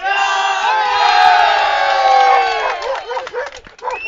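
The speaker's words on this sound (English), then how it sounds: "As the Croatian crowd has their Javi chant" A Croatian crowd at a women's softball European Cup gold medal game chants in unison, a loud sustained massed vocal swell that breaks into rhythmic shouted bursts near the end.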